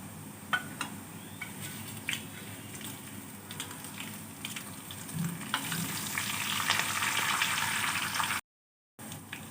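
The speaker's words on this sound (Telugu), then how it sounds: "వెల్లుల్లి ఫ్రై అయ్యాక కరివేపాకు, ఎండుమిర్చి వేసుకుని ఫ్రై చేసుకోవాలి." Curry leaves and dried red chillies fry in hot oil after garlic, a steady close sizzle with occasional stirring clicks that swells louder midway, then cuts to a brief silence near the end.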